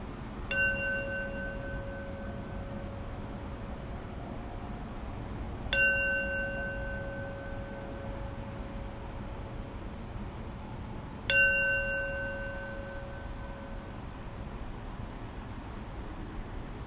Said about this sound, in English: And I'll close practice with 3 rings of the bell.